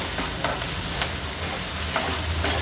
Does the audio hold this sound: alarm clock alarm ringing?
no